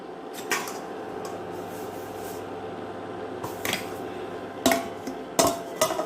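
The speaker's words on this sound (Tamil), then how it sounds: "இனிமேல் நம்ம இதை வந்து மூடி வச்சுக்கணும்" A lid set down on a cooking pot while black chickpea tamarind gravy cooks, giving a few sharp metallic clanks toward the end over steady kitchen background noise.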